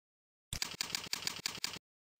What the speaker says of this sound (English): Then type the username and password.